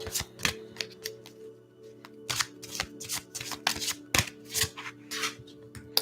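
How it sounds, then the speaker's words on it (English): A deck of tarot cards being shuffled in quick riffling bursts, close up, with short pauses between the rapid flurries of papery snaps. "So I'm going to just concentrate, shuffle the cards."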